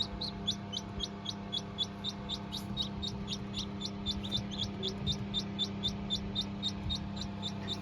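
Continuous shrill peeping of newly hatched chicks in a regular rapid rhythm over a steady low hum.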